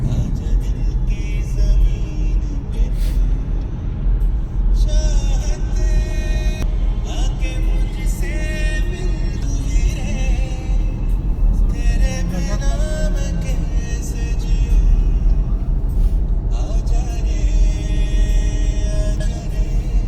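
Car driving on a snowy road, a steady low engine rumble and road noise from inside the vehicle throughout, with faint tonal sounds such as music or voices mixed in.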